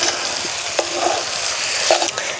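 A potato and cauliflower filling is stirred in a frying pan, steady sizzling with a few sharp scrapes of the spatula against the pan, no talking.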